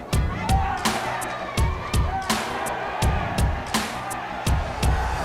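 Boxing arena crowd reacting during a bout, a continuous murmur with bursts of cheering, mixed with repeated thuds and a commentator talking over it.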